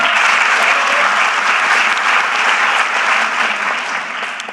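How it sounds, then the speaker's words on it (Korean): Dense, steady applause from a large crowd fills a town hall meeting in Jeju, with many hands clapping together continuously before it thins slightly near the end. "저 박수 벌써 몇 번째 받고 있습니다"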